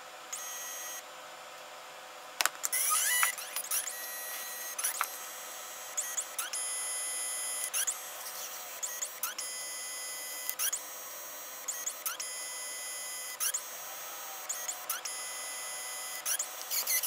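A nail printer prints a palace photo onto a handmade nail tip, giving a quiet, steady mechanical whir broken by repeated short shuttling movements and thin high-pitched tones, close by with no voices.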